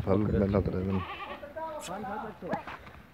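A goat bleats loudly up close in a wavering, quavering call, then someone speaks over fainter follow-up bleats and farmyard noise, in a livestock-selling setting.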